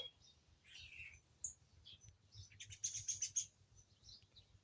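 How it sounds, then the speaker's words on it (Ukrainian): Birds chirp and sing in short bright bursts in the morning in a Ukrainian garden, some near and some farther off, over a quiet low hum. "Співають птахи, як завжди, вранці."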